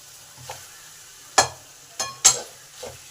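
A few separate scraping stirs through boiled potato, beet and carrot in a pan, quiet soft scuffs sounding at irregular moments against a near-silent background.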